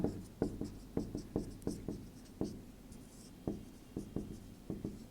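Chalk tapping and scraping on a board during a physics lesson, a steady run of close, sharp strokes and taps in an uneven rhythm, with no voice.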